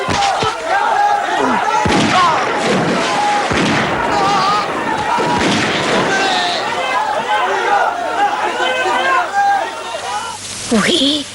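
Gunfire strikes a crowd of marchers in a film scene: several loud, sharp reports burst over a dense crowd of shouting, clamouring voices.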